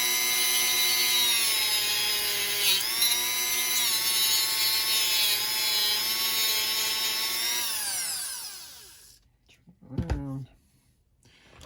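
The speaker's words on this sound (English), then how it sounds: "this plastic gets very hot from the cutting. It's essentially melting" A power tool cuts a plastic armor piece with a loud, steady whining drone holding its pitch for several seconds, then winding down and stopping, followed by a brief clack.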